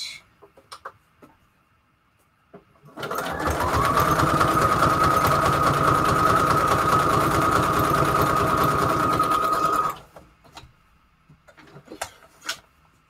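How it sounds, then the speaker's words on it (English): A sewing machine runs a zigzag stitch on a book-page pocket craft project, one steady buzzing run lasting about seven seconds, loud and close, with quiet handling noises before and after. "just going to use zigzag stitch, but maybe this time not so wide"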